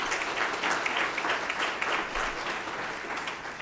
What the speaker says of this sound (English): We'd give her a round of applause, please.